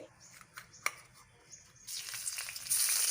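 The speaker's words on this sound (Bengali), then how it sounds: "ফোড়ন দিয়ে দেবো আর অল্প কিছু সাদা জিরে এর মধ্যে দিয়ে দেবো" White cumin seeds tempering in hot oil. A few soft taps come first, then a bright sizzle suddenly rises and grows louder toward the end, close by and with no talk.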